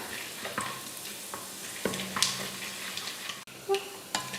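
Oil sizzles and crackles steadily while lentils fry, with occasional stirring scrapes and a few sharper pops.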